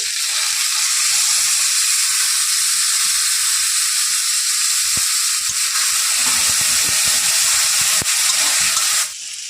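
Tomato and peanuts fry in hot oil with a loud, steady sizzle and hiss that runs almost unbroken, dropping off abruptly near the end.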